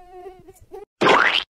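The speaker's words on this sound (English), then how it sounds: "Oh look, mosquitoes." A close, loud mosquito buzz cuts in for about half a second after some faint tonal voice-like sounds, its pitch rising steadily.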